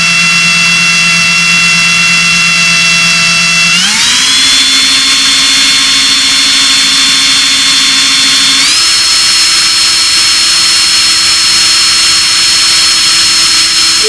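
A KAMOLEE cordless drill used as an ice auger runs continuously at second speed, a loud, steady motor whine that steps up in pitch twice as the speed rises, with no talk over it.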